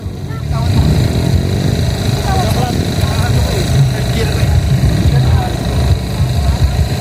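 A dirt bike engine revs and putters at a Kawasaki enduro race in La Paz, Villasis, Pangasinan, close and rough, with rising throttle blips while people shout and talk over it.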